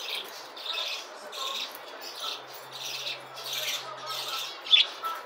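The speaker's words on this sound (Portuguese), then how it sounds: "Lindo casal de periquito inglês" A pair of English budgerigars, a moss-green male and an opaline female, squawk and chirp steadily at close range in a home, their bursts repeating throughout with one sharper call near the end.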